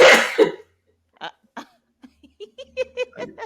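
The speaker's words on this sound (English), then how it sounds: "No, I had a cough. I coughed." A single loud, harsh cough bursts out at the start, then a few short voiced sounds and murmurs follow, like a brief throat sound and quiet reaction noises close to the listener.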